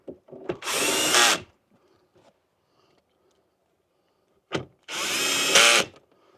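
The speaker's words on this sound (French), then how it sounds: "Donc avec la visseuse, ça va plus vite." A cordless screwdriver drives screws into a panel of a Tesla Model X during a cabin filter change, with two separate whirring bursts of about a second each, close and loud, separated by a quiet pause.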